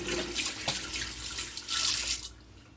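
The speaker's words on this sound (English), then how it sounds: "Just hang on a minute. I got to wash my hands." Water runs steadily from a kitchen tap while hands are washed beneath it, a close, continuous splashing rush that stops abruptly near the end.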